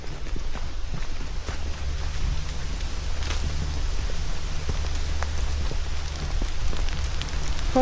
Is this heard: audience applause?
no